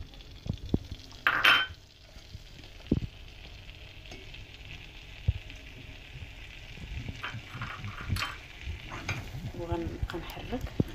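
Flour is stirred into melted butter in a sizzling pan with soft scraping strokes and occasional clinks of the utensil over a steady low frying hiss, close by, with a little background talk.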